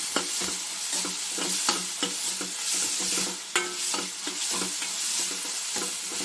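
Green beans, carrot and peas tossed in a generous amount of oil for a vegetable gravy make a dense, continuous sizzle, with quick repeated stirring scrapes throughout.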